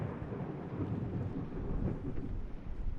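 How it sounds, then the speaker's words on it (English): Thunder rumbles in the Layers of Fear video game, a deep continuous roll mixed with steady rain hiss. It is fairly loud and fills the whole stretch with no talking. "Ooh, I love thunder."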